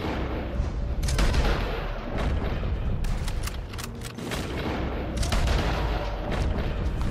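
Gunshots crack and boom in clusters in the video game Red Dead Redemption 2, with several loud reports and distant echoing fire over a rumbling background.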